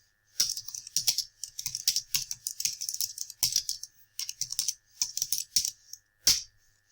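Rapid bursts of keystrokes on a computer keyboard while writing a Google Drive document, irregular clusters of close, crisp taps with brief pauses between, no voices.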